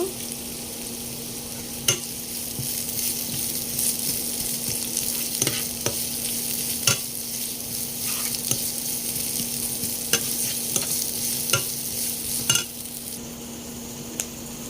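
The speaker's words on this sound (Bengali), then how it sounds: "এখানে আমি পেঁয়াজ এবং মরিচ কুচি দিয়ে দেব। এখন নাড়তে থাকবো।" Chopped onion and chili sizzle steadily in a pan while a spatula stirs them, making regular clicking scrapes against the metal every couple of seconds over the constant frying hiss.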